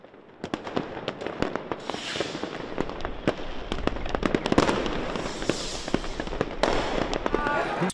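New Year's fireworks over Berlin bursting repeatedly in the distance, sharp cracks and booms scattered over a steady crowd murmur, with voices mixed into the noise.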